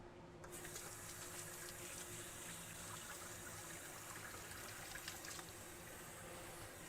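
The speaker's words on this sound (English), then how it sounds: "let me just wash my hands here" Hands rinsed under a running tap in a kitchen: a steady, faint, continuous rush of flowing water with no distinct breaks.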